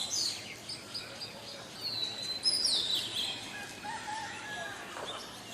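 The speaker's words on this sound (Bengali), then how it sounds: "আর সকাল থেকেই সব ধরনের পাখির সমাগম।" Morning birdsong rises from a residential campus area, with magpie robins and mynas among the calls. A mix of faint, scattered chirps and whistles sits at a moderate distance over a soft outdoor background.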